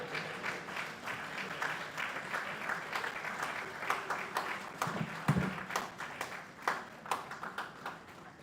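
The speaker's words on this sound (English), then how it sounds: "I'm going to stylishly ask you to give me a round of applause so that I can take a breath" An audience at a university inaugural lecture gives a round of applause, fairly quiet and thinning into scattered individual claps toward the end, with a brief low murmur partway through.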